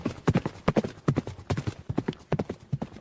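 Horse hooves clip-clop in a steady, brisk walking rhythm, close and clear, a continuous run of paired hoof strikes with no talk over them.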